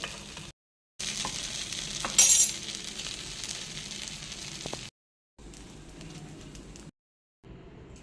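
Sago uttapam batter cooks on a hot griddle, giving a steady, fairly loud sizzle and crackle with a few faint clinks. The sound breaks into short sections separated by brief silent gaps.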